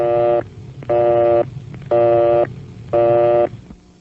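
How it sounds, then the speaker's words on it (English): A telephone busy signal: four evenly spaced beeping tones with short silences between, steady and close, over a low background hum. "If the line is busy, you'll hear this busy signal."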